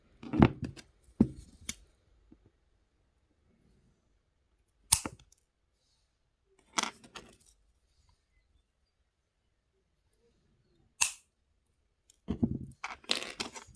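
Wire cutters snipping jewelry wire ends while making wire-wrapped earrings, a few sharp close clicks spaced apart with silence between, some near the start and a cluster at the end.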